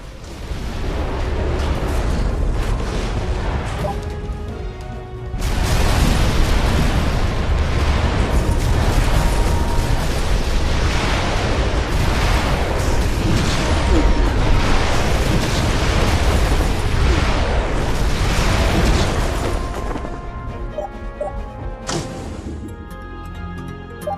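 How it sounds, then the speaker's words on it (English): Cannon towers in the sci-fi tower defense game Defense Grid 2 fire and explode in a dense, continuous barrage of loud booms and bursts that builds after a quieter opening and fades near the end. "That's what a cannon's made for."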